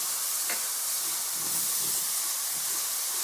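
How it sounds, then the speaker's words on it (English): Garlic sautéing in olive oil in a pan gives off a steady hiss and sizzle, close and continuous, with faint stirring scrapes and no voices. "Just saute that garlic."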